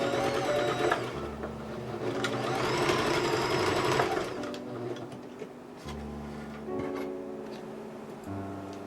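Close sewing machine stitching the knit fabric of a ballet tutu skirt, running in steady mechanical bursts with short gaps between, no voices.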